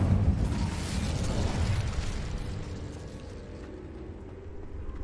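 An Incendio fire spell is cast in the Hogwarts Legacy video game, a loud whooshing burst of flame that roars and rumbles, then slowly settles into a softer crackle.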